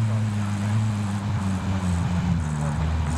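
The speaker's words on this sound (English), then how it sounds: "Watch the sky. Yeah, your helicopter." A helicopter in Call of Duty Warzone whirs close by with a steady low rotor drone and engine hum, while voices talk faintly over it.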